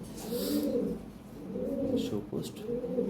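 Lahori pigeons coo in three low, rolling phrases at a steady rhythm, nearby, with faint rustling and a bird chirp in the background.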